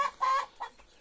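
Two-month-old chicks cluck in a few short bursts, close and fairly loud, with brief quiet gaps between calls on a farm.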